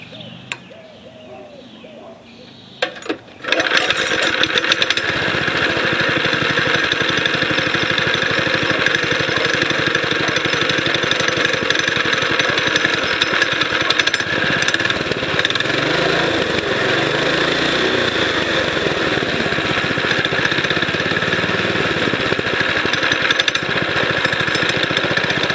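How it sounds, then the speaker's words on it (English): A Springer motorized bicycle with a 6.5 engine on its stock mufflers fires up after a few quiet seconds, then runs loud and continuous with a buzzing, rattling drone close by. "we're going to do a sound check against the stock mufflers that comes with these"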